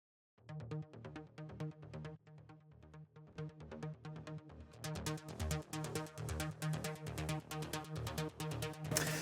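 A synth bass plugin patch with an Access Virus character plays a steady, punchy rhythmic pattern of repeated notes, loud and alone, its tone becoming brighter and denser about halfway through.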